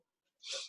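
One short, breathy sneeze comes faintly from off to the side during a quiet interview about martial arts.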